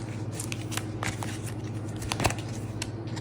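Tarot cards being shuffled by hand make a steady, close, dry run of papery riffling and snapping clicks, with no talking.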